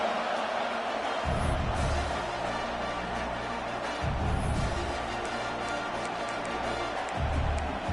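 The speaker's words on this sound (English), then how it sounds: "These fans raising the volume on 2nd and goal" A football stadium crowd roars steadily on 2nd and goal, a wide wash of cheering heard from a distance, with several low rumbling surges as the noise rises, and no commentary over it.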